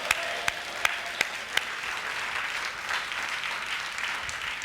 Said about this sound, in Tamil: கைதட்டுங்க பார்க்க